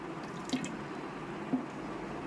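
Milk squeezed by hand for a homemade hair oil falls in two faint, separate drips about a second apart over a quiet background.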